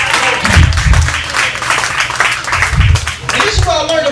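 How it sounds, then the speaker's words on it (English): Audience applause at a stand-up comedy show, a dense patter of clapping from the crowd running under a man's loud speech throughout. "Clap it out for me"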